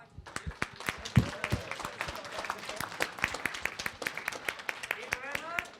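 An audience at a youth environment ministers' conference claps in a spread of sharp, uneven hand claps that keeps going for several seconds, with a voice speaking over part of the applause.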